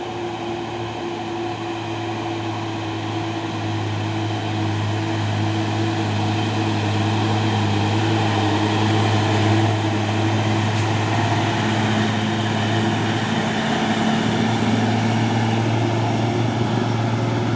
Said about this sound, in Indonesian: masuk lagi truk Hino melewati tanjakan Bukit Korok di pagi hari